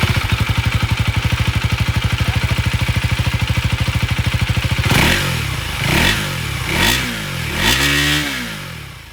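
A KTM Duke 390 motorcycle's underbelly exhaust idles with a steady, loud rapid thumping, then the throttle is blipped several times, each rev rising and falling sharply.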